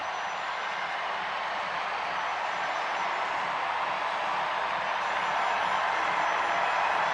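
Sellout baseball crowd of over 43,000 at a White Sox versus Padres game in the 8th inning, a steady distant roar of stadium noise with no distinct cheers standing out.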